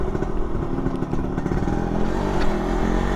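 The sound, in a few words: Suzuki Satria RU (Satria Lumba) motorcycle engine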